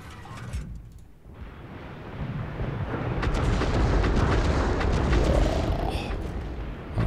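Rocket artillery in World of Tanks fires with a sharp burst, followed by a swelling, sustained rumbling roar of launches and impacts that stays loud for several seconds.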